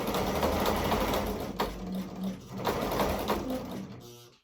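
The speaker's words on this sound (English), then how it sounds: "he's going to test and make sure it's properly threaded by trying to sew" A sewing machine stitches through fabric in a steady, continuous mechanical whir, close and fairly loud, with brief pauses and shifts in pace as the thread is tested.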